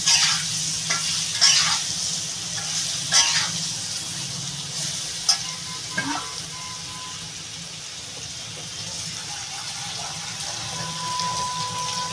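Taro pieces frying in a pan, a steady soft sizzle with intermittent scraping stirs and light clinks, close and fairly quiet with no talking.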